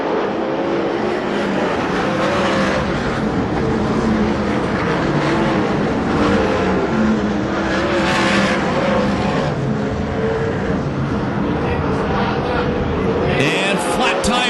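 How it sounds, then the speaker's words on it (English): USAC/CRA sprint cars racing around the Perris, California track during the Jack Kindoll Classic, engines roaring steadily and loudly throughout under continuous race commentary. "Now Gardner goes to fourth as he passes Zeal."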